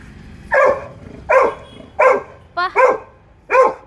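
A Labrador barks five times, close and loud, with short gaps between the sharp barks and one quick double bark near the end.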